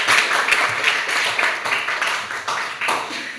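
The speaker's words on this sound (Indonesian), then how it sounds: "Oke, tepuk tangan dulu untuk kelompok 5." A small group claps for a presenting team in a classroom, with light, uneven, nearby clapping that runs steadily throughout.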